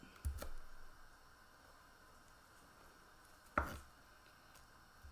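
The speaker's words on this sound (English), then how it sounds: "Am I chopping an onion?" A knife chops an onion in a home kitchen while vegetarian taco fillings are prepared, two separate, sharp, close cuts against a board with quiet pauses between.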